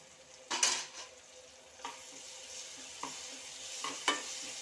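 Onions fry with ginger paste in a pan for egg dum biryani, a soft continuous sizzle broken by several sharp clinks and scrapes of a stirring spoon against the pan.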